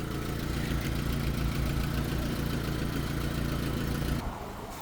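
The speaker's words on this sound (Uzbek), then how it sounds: "Mana motor holatlari." A Chevrolet Malibu engine runs at a steady, fairly loud idle up close, with a continuous low rumble that drops off slightly just before the end.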